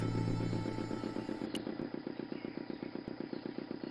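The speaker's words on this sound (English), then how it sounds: "motor spluttered into life." A motor in the Broken Sword 2 video game sputters into life, a steady, rapidly pulsing engine chug holding loud and close throughout, with a brief clank near the start.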